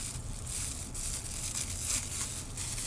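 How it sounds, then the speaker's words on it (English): A plastic shopping bag is cut and torn into strips, giving faint, repeated crinkling and rasping tears with no one talking. "make strips out of a shopping bag"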